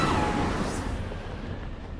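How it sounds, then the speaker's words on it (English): Wind gust in The Legend of Zelda: Tears of the Kingdom, a loud broad rushing whoosh that starts strong and slowly fades over two seconds, with no voices. "wind gust."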